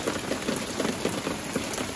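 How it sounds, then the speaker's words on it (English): Heavy rain pours steadily onto a garden with tomato plants and a potted papaya tree, a dense, continuous hiss of drops spattering on leaves and surfaces, close and even throughout with no voices. "But a lot of rain."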